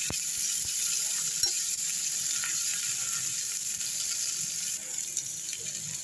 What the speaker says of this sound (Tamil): தக்காளி, வரமிளகா, பச்சை மிளகா போட்டுக்கேன். நல்லா ஃப்ரை பண்ணுங்கள்.